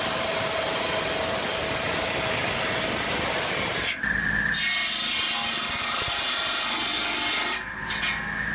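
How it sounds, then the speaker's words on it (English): A circular saw rips through thick wooden boards with a loud, steady grinding roar that stops abruptly partway, then a second cut starts and ends near the close. "This circular saw cuts through wood with precision, making it ideal for large projects."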